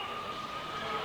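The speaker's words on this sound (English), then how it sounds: "Yes, in the background, the sirens" Fire engine sirens wail faintly and briefly near Lang Park stadium, blended into a wash of distant crowd and street noise.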